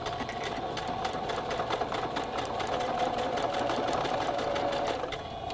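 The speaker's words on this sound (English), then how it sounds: "And I'm just going to sew the pleats." A sewing machine stitches the pleats and seam of a fabric PPE mask with a fast, continuous mechanical whir and rattle, close by and steady, with no talking.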